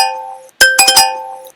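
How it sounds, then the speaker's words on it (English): A timer alert from a Java exam program sounds as a bright chiming electronic tone, followed by a quick cluster of three or four glassy clinking pings with sharp onsets and short ringing decays. It is close and moderately loud, with no talking. "If the time is running out, the alert sounds like this"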